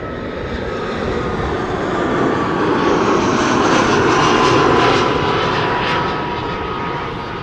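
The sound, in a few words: Finnair flight 1301 from Helsinki arriving, aircraft engine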